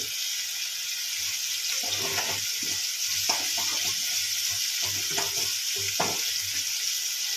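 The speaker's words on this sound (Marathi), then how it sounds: "आता आपण सगळं हे जे आहे हे परतून याच्यातून घ्यायचं, परतून घ्यायचं सगळं" Chicken masala with mint and coriander sautéing in a pan, a constant hissing sizzle with intermittent soft stirring scrapes, close and fairly loud.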